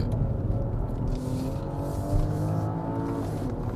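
A BMW X5 45e plug-in hybrid SUV, 2.4 tonnes with 400 hp combined, climbs a winding mountain road at Genting, its engine droning steadily from inside the cabin with a low rising hum and road noise.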